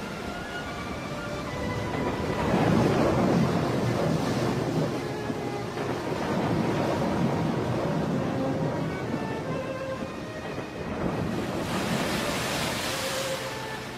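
Fierce ocean waves and surf churn on open sea after a shipwreck, a steady broadband roar that swells and recedes in surges, with a brighter hissing wash near the end, no voices.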